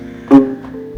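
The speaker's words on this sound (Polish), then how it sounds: "Najniższy dźwięk na skrzypcach brzmi tak, a na altówce tak." A viola sounds its lowest note in a music school, a single short, resonant tone that swells and fades within a fraction of a second, with quiet room noise around it.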